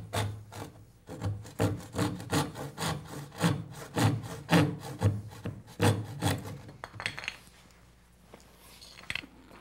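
A saw cuts a small pie-shaped wedge of wood in a cabinetmaking shop, with about fifteen steady rasping strokes close up. The strokes stop near the end, leaving quieter shop noise.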